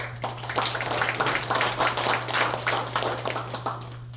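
Audience applause at a Korean literary society general meeting, steady clapping from many hands filling the room, with a constant low electrical hum underneath.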